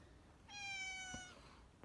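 Pet cat CeCe lets out a single clear, drawn-out meow indoors, close and fairly soft, with quiet room sound before and after.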